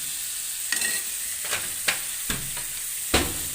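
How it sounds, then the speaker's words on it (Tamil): Cooked rice being stirred into snake gourd in a hot pan, a steady sizzle and hiss with a few scraping strokes of the spoon at uneven intervals, close by and with no voices. "இப்போ நம்ம வடித்து வச்ச அரிசியை உள்ளே போட்டு கிளறலாம்"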